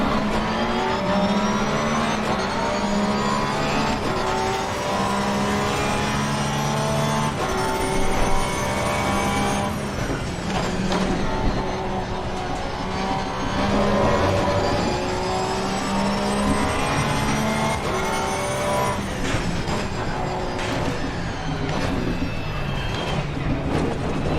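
A Ferrari race car in Assetto Corsa Competizione runs close behind, its engine a loud, continuous high-pitched wail that rises and falls with gear changes and revving over the whole stretch.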